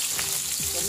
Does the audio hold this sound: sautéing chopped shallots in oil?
yes